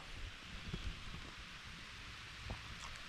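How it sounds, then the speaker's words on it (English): Heavy rain falls steadily on an outdoor walk, a constant broadband hiss with faint scattered drops and slight wind buffeting, fairly close, with no voices. "Wow, it's raining hard."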